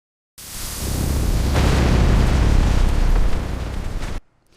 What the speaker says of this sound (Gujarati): ધડાકો એટલો પ્રચંડ હતો કે સમગ્ર વિસ્તાર ધ્રુજી ઉઠ્યો